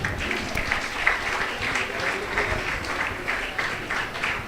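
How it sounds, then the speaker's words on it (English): Audience applause at a college convocation ceremony, a continuous wash of many hands clapping at moderate loudness, steady from start to finish. "Kindly applaud for them."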